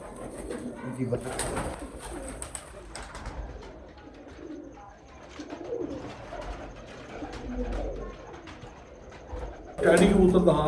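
Bankay Teddy pigeons cooing close up, a steady stream of low burbling coos and faint chirps, with voices talking in the background and a louder burst near the end.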